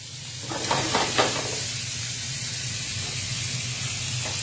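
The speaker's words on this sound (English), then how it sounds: "Pork chop's still a little soft. They just need about a minute." Pork chops sizzle in a hot pan with a steady, close hiss, broken early by a few brief scraping stirs before the frying settles into an even crackle.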